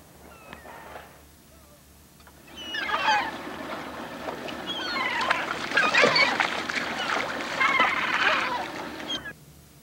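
Seagulls calling at an open food fishery, a busy chorus of squawks and cries rising after a quieter start and continuing loudly, with some background hum.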